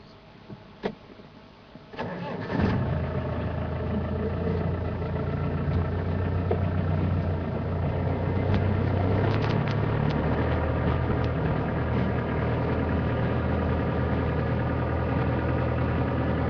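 A car engine cranks and catches after a couple of soft clicks, then settles into a steady, close idle with a low rumble that holds on without pause.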